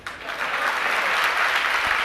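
An audience at a spiritual discourse applauds steadily, a dense wash of many hands clapping at close range that holds fairly even for about two seconds with no talking over it.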